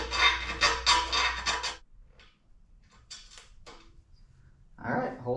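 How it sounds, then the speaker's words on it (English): A hand file cleaning up the inside of a metal winch bumper for a Geo Tracker, giving close rhythmic rasping strokes in a burst, then a quiet gap with faint scrapes before more rasping. "we're gonna take the file and clean up the inside of that"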